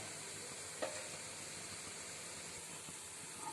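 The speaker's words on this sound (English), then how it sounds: "Now I'll be removing all my protein wale lollipops from the oil." Protein lollipops are lifted out of hot frying oil in a home kitchen, a faint continuous sizzle and hiss with a couple of soft clinks, no talking.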